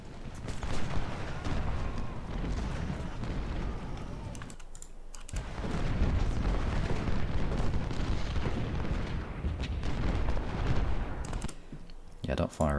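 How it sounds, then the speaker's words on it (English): Booming cannon and artillery fire in the Civil War strategy game Ultimate General: Civil War at Malvern Hill, a dense, continuous rumble of shots and blasts that drops out briefly midway and near the end. "There's cannons here, there's cannons here."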